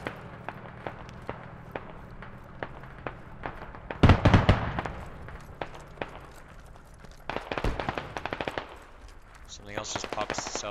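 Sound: machine gun fire in video game Squad

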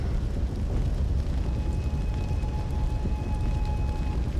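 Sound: iron barrel spewing fire, from the video game Sekiro: Shadows Die Twice

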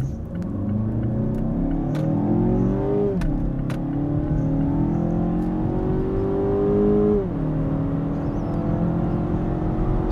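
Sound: Mazda 6 2.5 accelerating hard from 0 to 100

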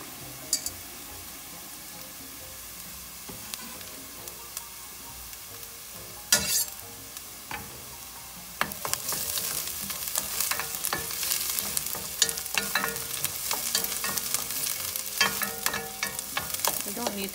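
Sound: garlic and onions frying in a pan

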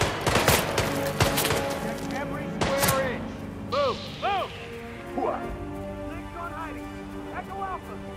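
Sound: gunfire from guards in the video game Hitman 3

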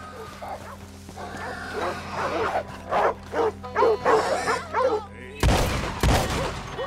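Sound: black dogs barking in Red Dead Redemption 2 video game

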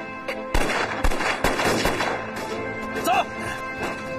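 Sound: gunfire in a war film

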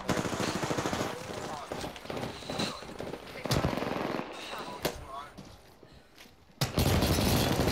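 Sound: gunfire in a video game

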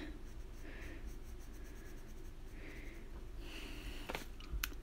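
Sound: colored pencil coloring on paper

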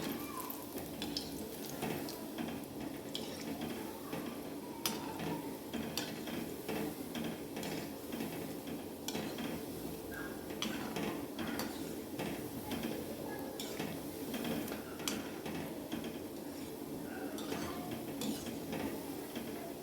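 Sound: gently stirring gulab jamun frying in pan

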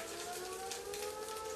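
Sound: town fire alarm siren sounding like an air raid siren

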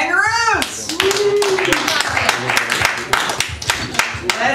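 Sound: audience clapping to vote for a game

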